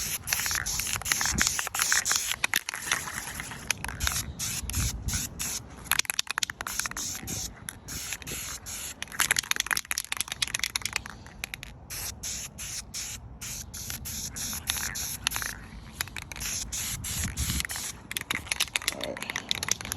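Spray can hissing paint onto an STI intercooler outdoors, a steady close spray broken by frequent short stops and restarts, with rubbing and handling noises mixed in.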